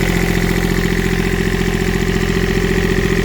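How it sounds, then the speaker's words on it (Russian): A steady, close idle from the engine of a Komatsu PC10-7 mini excavator, with a low, even rumble and regular mechanical pulsing, running continuously without change. "И вот наш двигатель."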